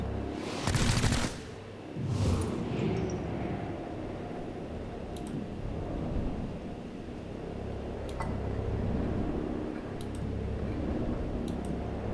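Muffled turn-based gunshots from XCOM Chimera Squad, a couple of sharp bursts early on followed by sparse faint clicks and ticks over a steady low background hum.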